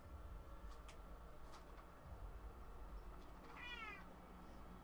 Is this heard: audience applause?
no